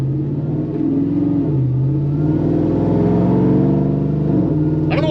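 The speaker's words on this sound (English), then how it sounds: "it's loud. Like, this thing's loud with that muffler." A supercharged 6.2-litre 2008 Chevrolet Tahoe with a loud muffler idles and revs, a deep steady exhaust rumble rising and dipping in pitch, close and loud throughout, ending in a brief high whine.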